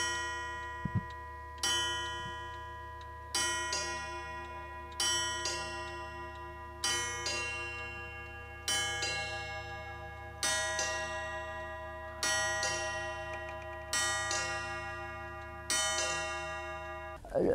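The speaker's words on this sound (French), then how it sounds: "c'est un tableau mécanique, un tableau à horloge. Donc nous pouvons l'entendre jouer." A mechanical clock painting, a framed picture with a built-in clock movement that plays at the quarter hours, half hours and hours, chimes a steady series of about ten ringing bell strikes. Each strike decays slowly into the next, with soft ticking underneath.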